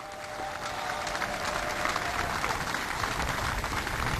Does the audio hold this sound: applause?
yes